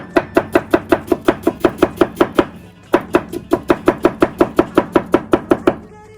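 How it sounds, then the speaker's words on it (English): A knife dices a fresh onion that has been cut in half, making rapid, even chopping taps on a board in two quick runs of about a dozen strikes each, close and crisp with no talking. "fresh onion, cut it in half because the brother requested it, and done"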